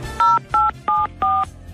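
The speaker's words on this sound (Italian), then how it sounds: "Allora faccio una telefonatina giù in Franciacorta." A telephone keypad dials a number, sounding four crisp, evenly spaced DTMF beeps of equal length, loud and close, with a faint hum underneath and no talking.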